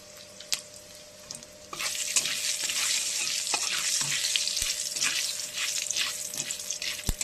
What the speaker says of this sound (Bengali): কড়াতে তেল দিয়ে দিয়েছি, এবার কালো জিরে আর শুকনো লঙ্কা ফোড়ন দিয়ে দিলাম